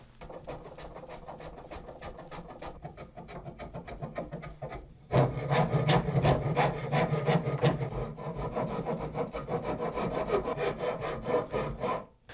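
A wooden guitar neck being rough-shaped by hand to remove the ridge at the nut: a steady, rapid rasping stroke rhythm, close and continuous, growing louder and coarser partway through.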